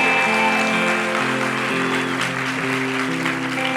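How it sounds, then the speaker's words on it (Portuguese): A church congregation at Zion Church Lisboa applauds steadily and strongly, a dense wash of clapping over sustained worship music throughout. "Se você crê nisso, dá uma salva de palmas bem forte."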